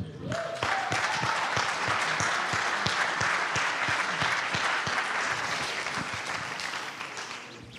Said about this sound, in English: I want to give you an applause